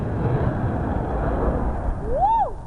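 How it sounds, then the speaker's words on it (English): Eurofighter Typhoon jet on afterburners during a pre-test flight for the Farnborough Airshow, passing over a housing estate: a steady, broad roar fills the air throughout, with a short rising-and-falling whistle-like tone near the end. "That was the sound of a Eurofighter Typhoon afterburners."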